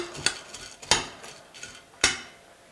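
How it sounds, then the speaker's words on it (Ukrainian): A tablespoon stirs hot water in a bowl, producing three sharp, bright clinks against the sides with softer scraping swirls between them, close and clear. "Потім я перемішую"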